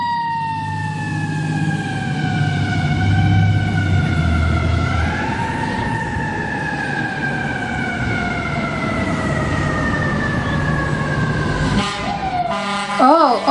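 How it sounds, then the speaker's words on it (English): A fire truck siren wails loud and steady in traffic, its tone sliding up and down in long sweeps, with an airhorn-like blare breaking in near the end. "That's siren."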